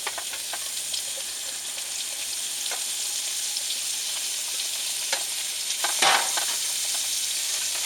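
Food sizzles in a pan over a gas canister stove inside a truck cab. A steady close crackle runs throughout with occasional stirring scrapes and spits, and no voices are heard.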